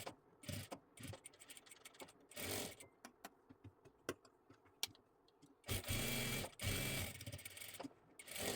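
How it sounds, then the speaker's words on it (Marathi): Sewing machine running in bursts of stitching, sewing triangular zigzag seams on a net saree fabric being made into a fancy frock; quick mechanical whirring runs alternate with short pauses and clicks, close and fairly quiet. "आणि त्रिकोणी त्रिकोणी शिलाई देऊन घ्यायची आहे."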